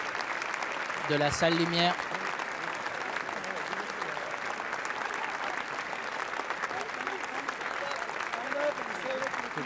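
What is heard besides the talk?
festival audience applauding the film team in a large hall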